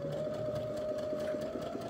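A sewing machine runs steadily, stitching a 1 cm seam across a skirt pocket bag, with a constant whirring hum and fast mechanical rhythm, close and moderately loud, with no talking.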